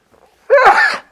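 A single loud, sharp sneeze bursts out close by after a brief quiet intake, then fades.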